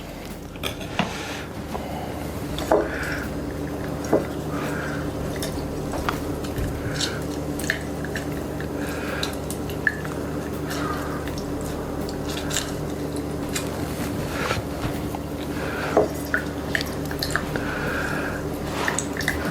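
Lemon being squeezed for a maple bourbon smash cocktail, with wet squishing and dripping plus clinks of glassware and utensils close by, continuous busy handling without speech.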